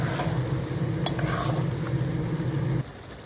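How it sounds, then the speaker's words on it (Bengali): Vegetables frying and stirring in a pan for Ilish fish head saag, a steady close sizzle with scraping stirs and a few clinks of utensil on metal, then dropping quieter near the end. "এখন এগুলোকে কিছুক্ষণ ঢেকে আমি রান্না করে নেব।"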